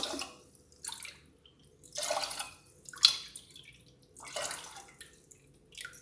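Water pours into a cooking pot for sweet pongal in several short bursts separated by pauses, splashing at moderate volume up close, with no talking.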